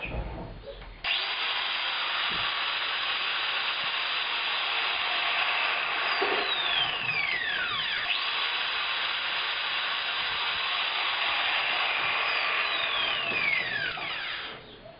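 A Makita 9558 angle grinder runs steadily at full speed, a loud continuous high whine sustained for the whole stretch after a brief start, with faint sweeping tonal shifts and no talking.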